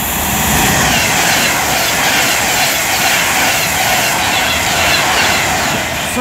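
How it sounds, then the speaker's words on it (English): A Pendolino train rushes past close by at Lichfield Trent Valley on the West Coast Main Line, a loud continuous roar of wheels and rails with faint rhythmic clatter throughout. "our next train to pass by is going to be another Pendolino"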